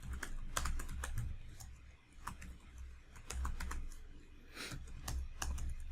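Code being written on a computer keyboard, with rapid, steady clicking keystrokes close to the microphone that continue almost without pause, and no voices.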